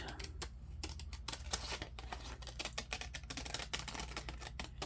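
Scissors snip through gift wrap paper to cut out a circle, a rapid run of close, crisp clicks and cuts with no talking.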